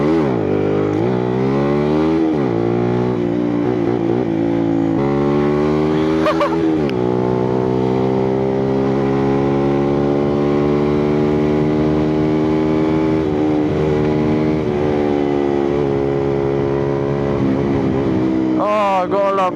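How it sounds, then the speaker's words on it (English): A motorcycle engine revs loudly and steadily nearby, its pitch climbing and holding during wheelies at a car meet, with brief shifts and dips and voices faintly underneath. "I gotta pop the wheelies"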